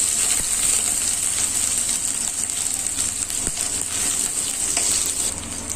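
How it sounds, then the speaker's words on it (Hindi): Chopped onion fries in a pan with cumin for an egg and potato curry, giving a loud, constant hissing sizzle with a few faint utensil taps. "अब इसमें कटा हुआ प्याज, अब इसे लाल होते तक भूनना है।"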